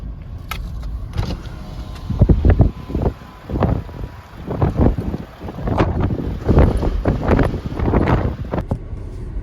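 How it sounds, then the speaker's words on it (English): Strong coastal wind gusts buffet the microphone near a shipwreck at Ethel Wreck in Innes National Park, Yorke Peninsula, with loud, irregular roaring bursts that rise and fall throughout. "it is so windy"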